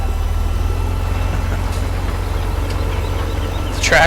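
Tractor engine droning steadily in Farming Simulator 17, towing a gigantic seeder, a constant low rumble filling the whole stretch with a brief brighter rise near the end.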